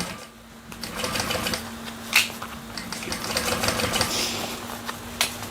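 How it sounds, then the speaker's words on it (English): A sewing machine runs steadily while stitching a Lyra bag, a continuous close whirring with a low mechanical hum and small clacks, no talking. "I've just started sewing"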